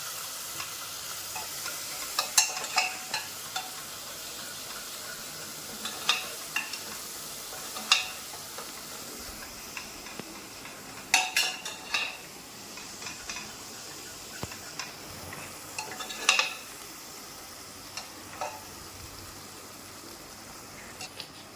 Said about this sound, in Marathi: या तेलात कांदा छान परतला की हा लसण छान परतून द्यायचा